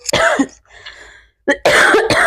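A few sharp, close coughs in quick bursts, with a brief quiet gap between them.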